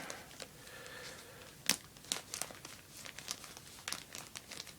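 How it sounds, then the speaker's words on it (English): Scissors gently snip and cut open plastic packaging, with crisp crinkling and sharp rustles scattered irregularly across the moment, close and fairly quiet, with no one talking. "going to very gently use just the edge of the scissors"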